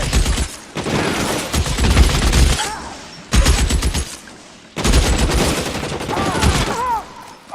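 Rapid bursts of video-game gunfire from L.A. Noire, loud volleys of shots in three clusters separated by short pauses, with shouted voices mixed in.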